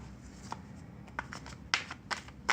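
Tarot cards being shuffled and drawn, with soft continuous riffling broken by several sharper slaps and flicks at close range, no talking.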